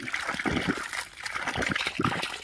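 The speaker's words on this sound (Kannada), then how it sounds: "ಇಷ್ಟು ಬಂದರೆ ಈಗ ಗಾಳಿ ಎಲ್ಲ ಹೊರಗೆ ಹೋಯ್ತಲ್ಲ, ನೀರು ನಿರಂತರ ಬರೋಕ್ಕೆ ಶುರುವಾಯಿತು" Water gurgles and splashes from a one-inch pipe as trapped air clears, an uneven spluttering trickle with bursts of splatter at close range.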